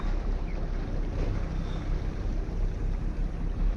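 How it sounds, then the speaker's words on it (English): A 2023 Raider 28-foot offshore boat runs with its engines in gear on open water off Alaska, giving a constant loud low rumble mixed with wind buffeting and water wash, with no voices. "You know, I still have the engines in gear."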